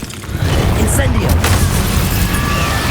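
An Incendio fire spell is cast in Hogwarts Legacy: a loud, sustained roaring burst of flame erupts after a brief quieter lead-in and carries on steadily to the end, with a voice briefly heard.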